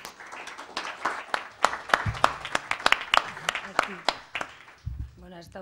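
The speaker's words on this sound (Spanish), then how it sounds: "pero antes de que comience le demos un aplauso" An audience at a Spanish book presentation claps, with distinct separate claps ringing out at a moderate level, mixed with talking.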